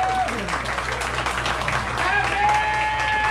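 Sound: applause

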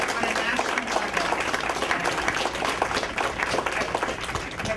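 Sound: audience applause

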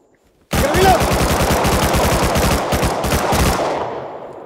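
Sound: gunfire in a video game

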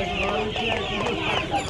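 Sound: turkeys at a poultry market

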